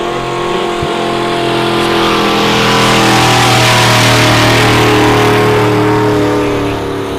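A Dodge W350 drag racing truck launches hard and accelerates down the strip at a truck fest, its engine roaring loud and sustained, rising in pitch as it pulls away.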